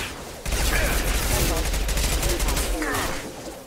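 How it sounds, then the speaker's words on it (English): Submachine gun fire in the Mass Effect 2 video game: one loud, rapid continuous burst lasting a little over two seconds, then trailing off. "This fucking SMG sucks."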